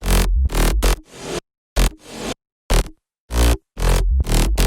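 Synth bass from the drop, playing alongside the chords in a loud, choppy rhythm of short and held bursts separated by clean silences, with no voices.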